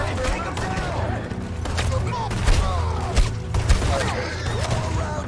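Scattered gunshots and thuds ring out in the open-world western video game Red Dead Redemption 2, several bursts at middling loudness mixed with game sound effects while someone talks over them.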